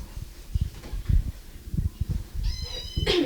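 A cat with a litter of kittens meows repeatedly in short, close cries, several calls in an uneven rhythm, with a higher, sharper mew at the very end.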